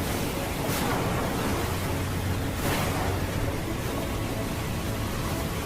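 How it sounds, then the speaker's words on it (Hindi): Rough seas with high waves surging around a boat, a steady broadband roar with two swelling wave crashes, close and fairly loud, wind noise mixed in. "अचानक ऊंची ऊंची लहरें उठने लगीं।"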